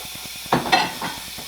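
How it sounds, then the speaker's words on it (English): Shrimp hit a skillet over medium heat, giving a burst of sizzling with a scraping stir, then a softer hiss. The pan is close, with a low rhythmic ticking in the background before and after. "I'm going to take my shrimp and put it in a skillet."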